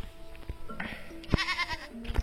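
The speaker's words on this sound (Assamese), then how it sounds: "এইটো ছাগলী ব্ৰিডটো হ'ল তোতাপুৰী ক্ৰছ" Goats of a Totapuri cross breed bleat on a farm in a few short, close calls mixed with quiet background noise.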